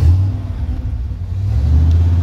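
Ford Bronco engine with a carburetor that needs cleaning, idling roughly and revving to stay above about 1,000 RPM; a loud, close, steady low rumble that swells and dips with the throttle.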